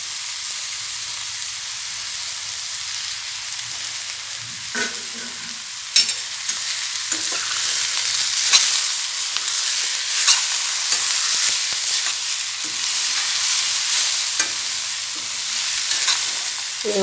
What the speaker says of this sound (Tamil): இப்போ நம்ம வடித்து வச்சுருக்க கடலைப்பருப்பை அதோட சேர்த்துக்கலாம்